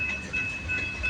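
An eastbound CPKC freight train rumbles past, a steady broad roar with a faint high whine, near and loud, no voices.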